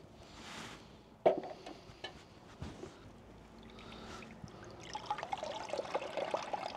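Pond water with duckweed is poured into a small aquarium: soft trickles and splashes start quietly, a sharp plop lands early, then a steadier pouring and dribbling builds toward the end, close and fairly faint.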